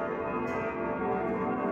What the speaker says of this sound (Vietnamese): Và đây là các chiếc đồng hồ cây đang điểm chuông đấy các bạn.